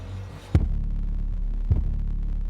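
Car subwoofer playing a steady, loud, deep bass tone during a dB drag test, a continuous low throb with two sharp thumps partway through.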